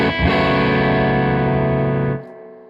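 A single loud, sustained electric guitar chord on a warm neck-pickup tone through a Victory V40 Deluxe amp rings steadily for about two seconds, then cuts off sharply.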